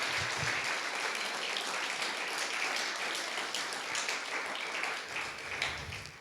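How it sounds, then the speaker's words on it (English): An audience at a social work conference honoring an award recipient applauds steadily, a dense patter of many hands clapping from start to finish that tapers slightly near the end. "So please give Dr. Yankee a huge round of applause"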